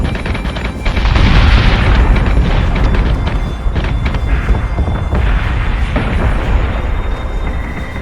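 Warship guns fire in the space combat game Battlestar Galactica Deadlock, a run of loud booming shots and rumbling blasts layered over continuous heavy low-end battle noise.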